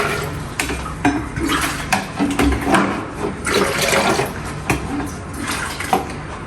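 Water poured from a jug into a bottle in a home kitchen, a loud splashing, gurgling stream with clinks and knocks of the vessels, uneven and close.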